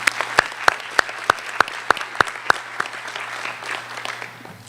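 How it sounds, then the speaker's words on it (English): Audience at a school district retiree recognition event applauds, with a run of sharp, evenly spaced claps close by that fade out toward the end. "Give her a round of applause."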